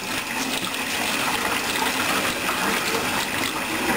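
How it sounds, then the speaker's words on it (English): Boiling water gushes steadily as it is poured from a kettle over ground beef, a continuous splashing rush lasting several seconds with no talking. "I have a kettle of boiling water. I'm going to pour that over it too."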